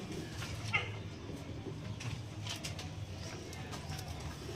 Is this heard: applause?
no